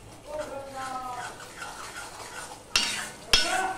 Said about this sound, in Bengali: কসুরি মেথিটা দিয়ে আমি একটুখানি কষিয়ে নেব।